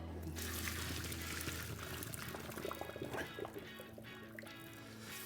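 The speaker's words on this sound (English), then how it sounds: "We're gonna pour the water out." Water poured off a pot of freshly cooked quinoa in a home kitchen, a close, steady splashing pour that runs for about five seconds with no talking.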